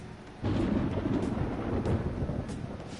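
Deep thunder rumbles in Persona 5 Royal ahead of rain, swelling suddenly after a quiet moment into a loud, sustained roll with a faint hiss of wind and rain beneath, no voices present.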